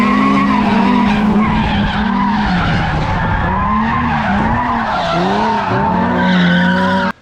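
Tires on a turbocharged Mazda Miata squeal and skid loudly and continuously through a drift, the screech rising and bending with each transition before cutting off abruptly at the end.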